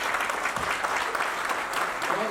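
Dense, sustained applause from a crowd at a retirement party for Singh sahab, steady and loud across the whole stretch, with a voice briefly audible underneath.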